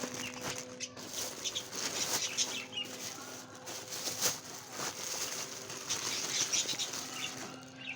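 Farm birds, ducks among them, flap their wings in repeated short bursts while being fed bread and feed, with occasional clucking in a quiet outdoor setting.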